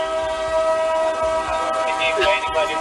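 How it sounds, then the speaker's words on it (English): A train passing in the background during a heist, a loud steady rumble with sustained horn-like tones and rhythmic rail clatter running throughout. "There's literally a train heist going on in the background. That's what you're hearing."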